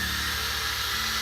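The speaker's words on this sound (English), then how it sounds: "Let's go ahead and drill that out." A handheld drill whirs steadily at a moderate level, boring into a Matchbox Volkswagen 1600TL die-cast model car during restoration.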